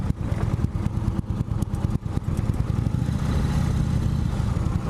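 A 2017 Indian Chief Vintage motorcycle runs steadily while being ridden, its low, throbbing engine drone close and loud and mixed with wind rush, with no voice over it.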